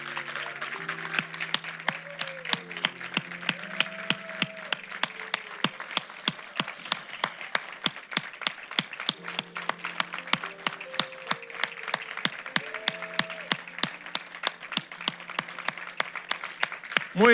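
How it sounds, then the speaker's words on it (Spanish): A church congregation applauds over soft sustained keyboard music, with a sharp, regular rhythmic clap pattern standing out above the steadier crowd clapping throughout. "honremos a Cristo con un aplauso"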